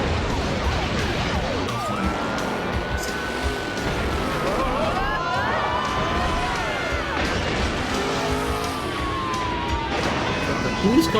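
Police car siren in a chaotic game scene, wailing tones sweeping up and down under loud engine rumble and crashes, with excited talking over the noise.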